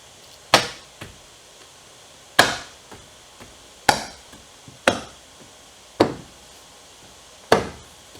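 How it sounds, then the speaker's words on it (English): Plastic door panel clips on a Jaguar XK8 coupe snap into place as the panel is pressed home, six sharp loud cracks spaced about a second apart, each followed by a fainter knock, with no talk. "That's actually just the plastic clipping into the other piece of plastic."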